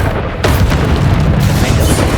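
Confringo spell explosion in Hogwarts Legacy: a loud, sustained booming blast with a dense, roaring low rumble that fills the whole stretch, a sharp burst near the start, and no voices.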